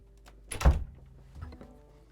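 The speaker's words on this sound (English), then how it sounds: "I'm just going to shut the door." A door swinging shut indoors in a house, one solid thunk close by followed by a softer settling knock, with quiet room tone around it.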